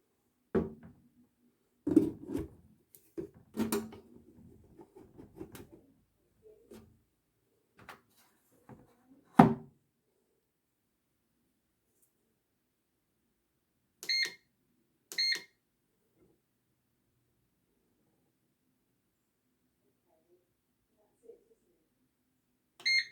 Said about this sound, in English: set the cooking pan into the machine, dial up the wholemeal bread program and start the machine